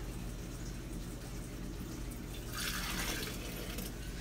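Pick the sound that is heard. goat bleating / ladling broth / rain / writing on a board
ladling broth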